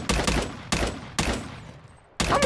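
Gunfire in Call of Duty zombies mode: three loud, sharp bursts of rapid shots with short gaps between them, then a fourth burst starting near the end.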